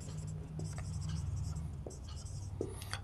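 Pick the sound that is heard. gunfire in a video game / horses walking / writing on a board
writing on a board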